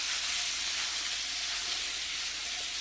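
Spicy garlic shrimp with vegetables sizzling in a pan as it is stirred, a constant loud hiss filling the whole stretch without voices.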